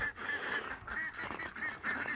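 Ducks on a homestead quacking in a steady, repeated honking chorus, close and fairly loud, with no talking.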